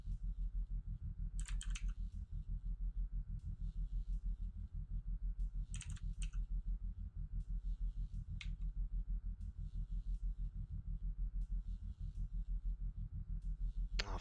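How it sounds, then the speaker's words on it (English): Keys on a computer keyboard are tapped in brief clusters of close clicks during PC gameplay, separated by pauses over a constant low pulsing hum. "Oh, I'm typing it wrong."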